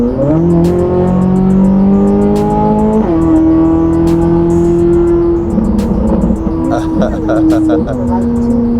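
A Chevrolet Corvette C8 Z06 engine revs with a steady, loud tone that shifts pitch mid-way, rising and settling, close by throughout.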